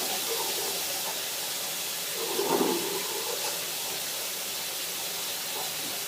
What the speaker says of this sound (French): Je vérifie que mon eau s'écoule bien.